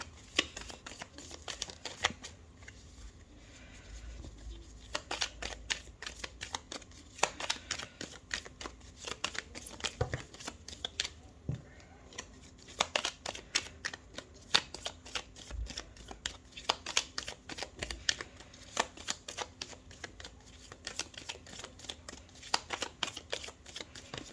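Tarot cards are shuffled continuously for a thirteen-card reading, a soft, close riffling and flicking that runs in uneven clusters of slaps and rustles, quiet and without any talking.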